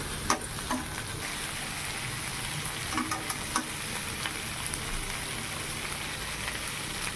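Potatoes fry in a pan with salt, turmeric and chili for a cauliflower and potato curry, a steady hissing sizzle with scattered crackles and stirring scrapes throughout and no voices.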